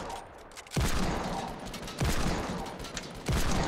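AK rifle fire in the Fortnite Battle Royale video game: three loud, close bursts of shots, each hitting sharply and then trailing off, spaced roughly a second and a quarter apart.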